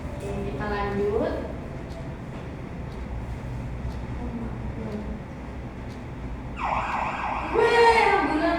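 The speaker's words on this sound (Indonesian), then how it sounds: "bagaimana suara yang terdengar ketika siaran ambulan di dekat kita tadi?" An ambulance siren passes nearby, wailing and swelling loudly near the end, rising over steady traffic rumble, with voices talking earlier.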